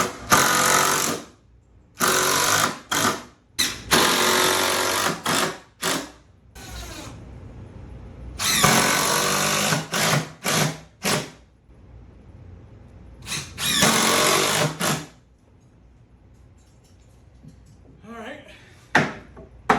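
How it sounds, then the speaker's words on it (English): A power drill drives screws into wooden blocks for DIY garage shelving, in loud, close bursts of whirring, a few seconds each, separated by short quiet gaps, with a voice speaking faintly in between. "I'm just going to do 2 screws per block"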